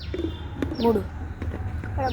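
Pigeons coo close by, giving several soft throaty coos in an uneven rhythm, with a voice briefly audible in the background.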